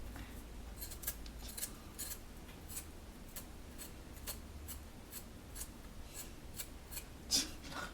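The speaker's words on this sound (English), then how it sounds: "You don't have to use a peeler either. You just use the spoon." A spoon scrapes the peel off a ginger root in quick, faint, repeated rasping strokes that run steadily at close range, with no talking.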